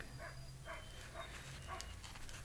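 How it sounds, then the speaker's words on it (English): A neighbor's dog barks somewhere nearby, a faint, distant run of short barks repeating about every half second over a low background hum. "That's a neighbor dog."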